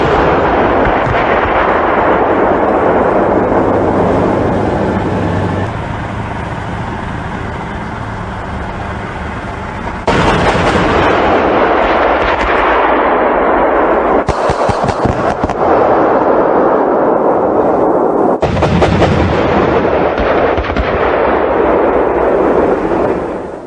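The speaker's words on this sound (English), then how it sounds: "two minibus targets engaged from a moving combat vehicle using high explosive tracer rounds in four-round salvos" A Bofors L70 40mm anti-aircraft gun on a moving combat vehicle fires high explosive tracer rounds in four-round salvos at minibus targets, giving loud, sustained blasting and booming with sharp onsets around 10, 14 and 18 seconds.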